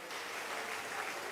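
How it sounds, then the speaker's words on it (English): Steady, dense applause from an audience at an awards ceremony for high school exam candidates, continuous and fairly loud throughout with no talking. "A round of applause for"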